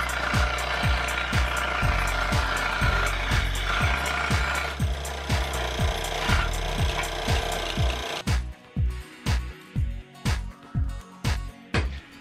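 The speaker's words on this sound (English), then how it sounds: "now we just have to shave off a bit of this excess around the edge" A wooden shield edge is shaved down by hand in a steady series of rhythmic rasping strokes, each with a sharp scrape, continuing regularly and growing drier and more clipped toward the end.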